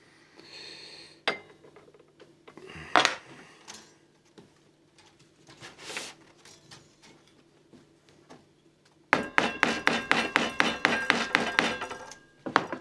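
A hammer taps down frets on a Harley Benton ST Modern electric guitar: scattered soft knocks and thunks early on, then a quick run of sharp, closely spaced taps near the end.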